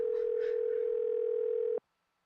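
A steady telephone dial tone from a Nancy Drew mystery game (The Haunted Carousel) while calling home, one continuous loud hum that cuts off abruptly near the end, leaving silence.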